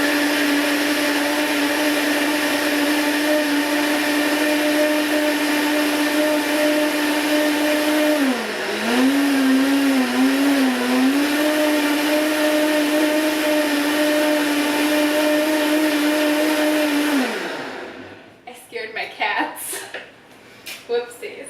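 A blender on smoothie mode purees strawberries with a loud, steady motor whine that dips and wavers midway, then stops abruptly, followed by faint clattering.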